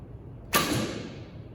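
Arrow loosed from a Junxing F166 recurve bow with wooden limbs and wooden riser: one sharp, snappy release crack with a brief ringing twang that fades quickly, close and alone.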